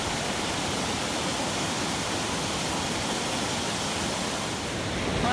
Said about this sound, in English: My first major water crossing.